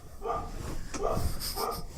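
Dogs barking in bursts, three clustered yaps spread across two seconds with snorting breaths between, fairly close and loud against an indoor room background.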